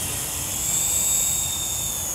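A small Syma 107 toy remote-control helicopter whirs nearby with a steady high-pitched whine, swelling slightly louder midway, no voices.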